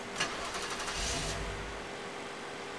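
A car engine in the video game Roadside Assistance Simulator cranks and briefly catches after the ignition key is turned, a low rumble swelling for about a second before fading out without settling into an idle.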